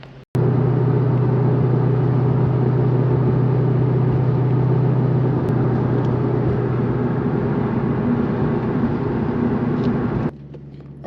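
A Shelby Terminator Cobra cruises along the road, its engine a steady, loud droning hum inside the cabin for about ten seconds before the sound drops away abruptly.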